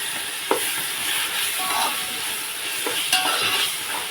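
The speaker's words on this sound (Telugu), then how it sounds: "ఇదండి పచ్చిమిరపకాయలు వేసేస్తున్నాను." Green chillies tossed into a hot pan give a steady bright sizzle of frying, with a couple of sharp stirring knocks against the pan rising above the hiss.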